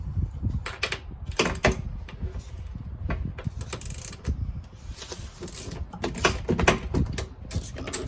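A 10mm socket ratchet loosens the mounting bolts of an old tow mirror on a 2012 GMC Sierra, giving quiet, irregular bursts of clicking between pauses, up close and faint.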